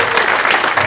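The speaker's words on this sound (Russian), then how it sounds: "Ваши аплодисменты!" Dense, loud applause from a festival audience fills the whole moment, a steady wash of many hands clapping together without pause.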